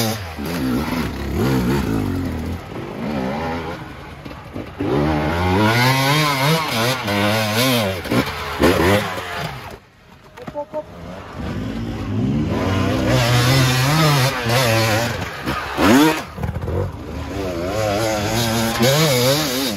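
An enduro motorcycle on slippery ground is held at full throttle in loud, ragged revving bursts with a brief drop near the middle before the engine screams again.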